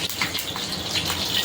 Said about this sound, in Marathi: त्याच्यानंतर आता तडका देते मी त्याला.